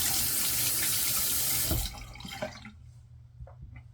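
Tap water running into a sink while rinsing after shaving, a loud steady splashing flow that cuts off partway through, leaving a few faint drips and small handling sounds.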